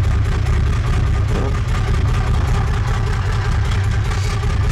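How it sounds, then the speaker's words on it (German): Honda VF750 Sabre motorcycle engine idling very slowly, a steady low rumbling drone heard close and loud without pause, no distinct revving. "Hört euch das an, wie der Motor läuft."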